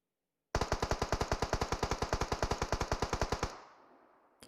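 A rapid burst of automatic gunfire in PUBG Mobile, about thirty evenly spaced loud shots fired over three seconds, then stopping abruptly and leaving a fading echo tail.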